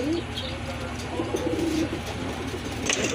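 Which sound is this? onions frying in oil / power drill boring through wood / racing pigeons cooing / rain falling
racing pigeons cooing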